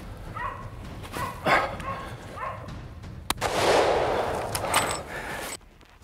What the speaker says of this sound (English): I can hear the dogs barking up ahead